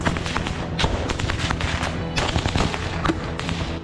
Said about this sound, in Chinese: 乌军指挥官拿出了榴弹枪对目标阵地轰炸